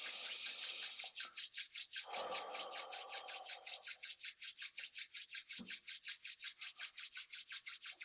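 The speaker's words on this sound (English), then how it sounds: "Rub your hands together" Two hands rub briskly together during a breathing exercise, making a steady, rapid swishing rhythm of short strokes, close up and alone with no talk.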